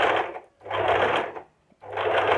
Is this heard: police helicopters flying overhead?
no